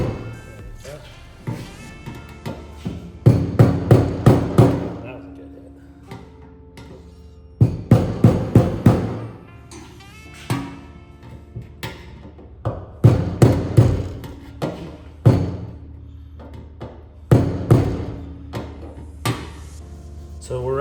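Light hammer taps seating a gas tank collar into place, coming in short rhythmic bursts of several sharp knocks separated by pauses, close and fairly loud.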